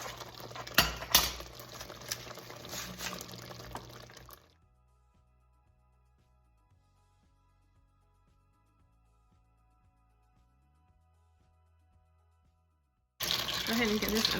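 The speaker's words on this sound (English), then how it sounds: "Go ahead and give this a stir, and then incorporate the tortilla chips." Tortilla chips being stirred into simmering salsa verde in a pan for chilaquiles verdes: scraping and clinking of a utensil against the pan for a few seconds, then near silence, then the stirring resumes.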